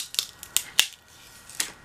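A cracked glass screen protector being peeled off an iPhone gives a few sharp crackling snaps, close and fairly loud, spaced apart over a couple of seconds.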